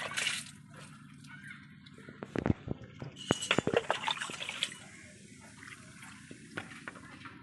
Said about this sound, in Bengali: একে ভর্তি করে জল দিয়ে দিতে হবে।